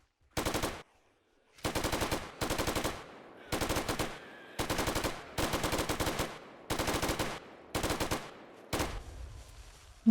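A light machine gun fires on zombies in the game 7 Days to Die, in repeated long automatic bursts of rapid shots with short gaps between them, loud and close, and no talking.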